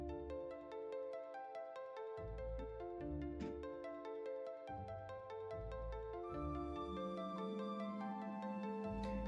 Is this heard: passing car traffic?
no